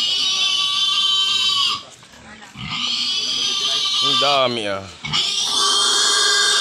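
Pigs squeal and grunt loudly nearby in a noisy, chaotic chorus, with a voice speaking briefly partway through.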